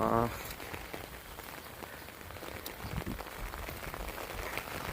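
Steady rain from Cyclone Montha patters on a hard surface at a chilli farm, an even wash of drops without a break.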